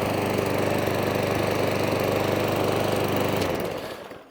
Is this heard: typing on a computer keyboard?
no